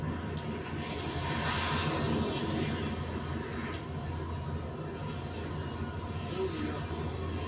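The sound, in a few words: fighter jet flying in video game GTA 5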